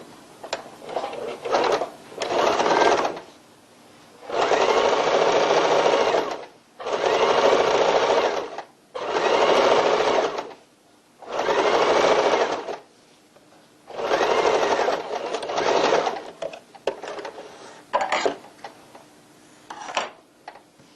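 A sewing machine stitches the bias-bound inner pocket of a tote bag in about six steady bursts of running, each a few seconds long, separated by short pauses, loud and close with no talk.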